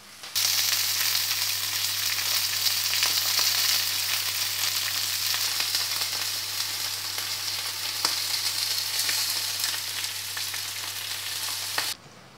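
Onion and asparagus frying in a pan for tuna with onions, a steady, close, loud sizzle that holds evenly for about twelve seconds before cutting off, with no talking.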